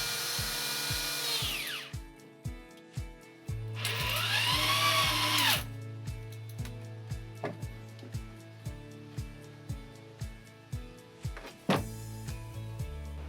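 A power drill drives self-boring screws into the wooden studs of a shed, in bursts of high whirring spin that end in a dozen sharp clicking ratchet pulses, close and loud with no talk.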